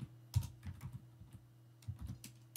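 Sparse, faint keystrokes on a computer keyboard sound as a few soft clicks in small clusters over a low steady hum, with no speech.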